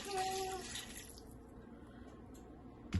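Water poured into a crock pot, a rushing pour for about a second, then a quieter trickle and background hiss, ending with a small bump, close and without talk.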